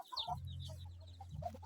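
Chickens, including a mother hen with chicks, cluck inside a coop with scattered soft, high calls over a steady low background hum.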